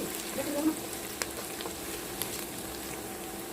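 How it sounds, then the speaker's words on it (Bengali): Chopped onion frying gently in a little oil gives a soft, faint sizzle with a few light clicks of stirring, low and steady in a quiet kitchen. "পেঁয়াজ কুচিগুলি আমরা একদম বাদামি রং করে ভাজবো না, এটা সামান্য একটু আমরা রান্না করব, অর্থাৎ সামান্য একটু তেলটা ফ্রাই করব"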